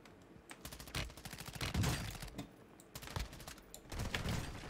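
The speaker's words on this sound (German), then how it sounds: "Oh, ich höre Schüsse." Gunfire in Call of Duty Warzone, rapid bursts of automatic shots in quick succession, fairly faint, with short pauses between volleys.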